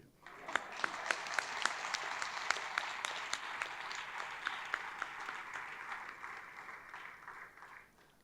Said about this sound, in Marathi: टाळ्या वाजवल्यात ना